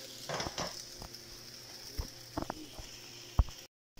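A crêpe cooking in a pan after being flipped gives a soft steady sizzle, punctuated by a few light clicks and taps of a utensil against the pan, ending abruptly.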